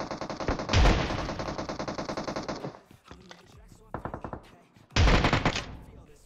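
Bursts of rapid automatic gunfire from PUBG Mobile, loud and close, with a short pause of quieter sounds before another volley.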